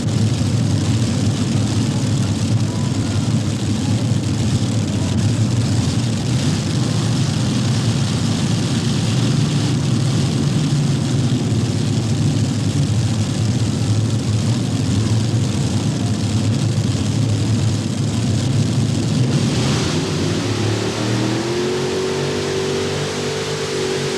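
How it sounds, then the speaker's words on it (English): Six JP1 Racing Hemi engines roaring together in a pulling contest, a loud, continuous droning blast that holds for the whole stretch and shifts pitch near the end. "It's the ladies' turn right now behind those 6 JP1 Racing Hemi engines."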